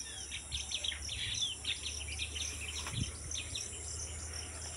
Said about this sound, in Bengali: সকালবেলা হলেই কিচিরমিচির টি টি টুই টুই নানা রকম আওয়াজ করে এরা। ওই যে ভেসে আসছে